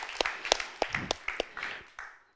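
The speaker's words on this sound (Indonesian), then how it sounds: "Kasih tepuk tangan dulu teman-teman." A small church congregation clapping, a sparse run of about a dozen sharp claps spaced at a fairly even rhythm and fading out after a couple of seconds, with no talk over it.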